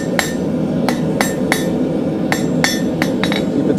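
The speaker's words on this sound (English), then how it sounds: "Let's put that point on it right on the far edge of the anvil. Couple blows right there," Sharp ringing hammer blows on hot steel at the far edge of an anvil while forging a point, about ten close metallic strikes in an uneven rhythm over a steady background hum of the forge, no talk.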